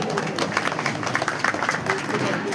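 Applause from an audience at a residents' welfare association honours ceremony, a dense spread of clapping under a voice talking over it.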